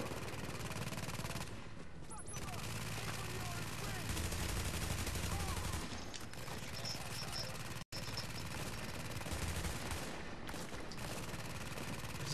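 Sustained, dense gunfire and automatic bursts in the video game The Division during a Times Square mission, loud and continuous throughout with almost no let-up, while players talk faintly underneath.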